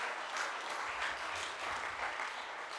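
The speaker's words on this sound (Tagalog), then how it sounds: "Palakpakan natin ang Panginoon, yung malakas na palakpak." A church congregation claps loudly for the Lord, a sustained wash of applause from many hands that holds steady throughout and is heard alone, without talking.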